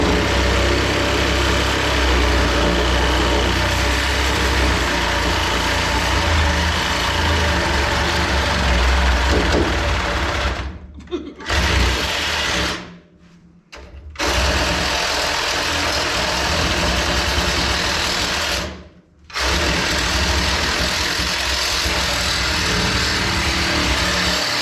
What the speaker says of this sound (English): Come on, Sawzall.